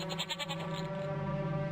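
A short, wavering goat bleat rings out close by, then fades into a steady tonal hum, in the video game Rusty Lake Paradise.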